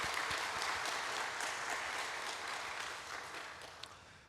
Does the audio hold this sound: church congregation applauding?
yes